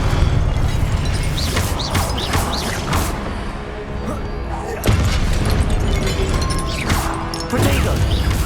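Confringo blasting spell explosions in Hogwarts Legacy, a game set at Hogwarts: repeated loud bursts and crashes in a busy stream of combat effects, with a voice heard between them.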